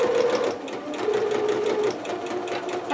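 A sewing machine runs steadily and close by, stitching long seams through fabric for a Pikachu dress, with a constant whirring hum and a slight change in pitch partway through.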